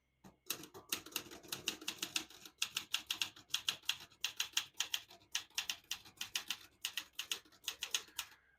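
Rapid, steady keystrokes clatter on a 1971 Olivetti Lettera 32 portable manual typewriter, loud and close, in even bursts with brief pauses and no talking.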